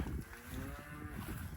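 Cattle low in a pasture with a long, deep, droning moo that swells and holds, heard at middle distance over faint outdoor background noise.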